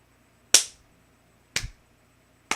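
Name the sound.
slow hand clapping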